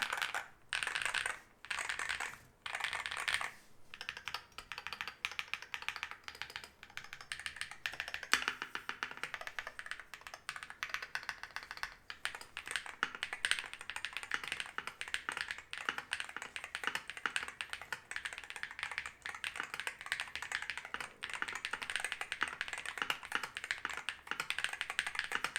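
Typing on a Venom 60HE keyboard fitted with Wooting Lekker Tikken Hall Effect switches, a steady, close stream of rapid keystroke clacks broken by a few separate taps at the start, with no voices.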